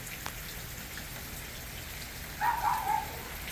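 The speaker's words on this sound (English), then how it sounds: "It is raining quite heavily" Heavy rain falls during bright Florida sunshine, a steady close hiss of drops on surfaces with a slightly louder patter swelling near the end.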